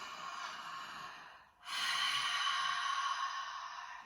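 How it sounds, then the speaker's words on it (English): Slow breathing in and out through the nose during a yoga session, a soft airy exhale, a brief pause, then a louder, longer inhale close by. "Notice how we default to wanting to breathe through the nose."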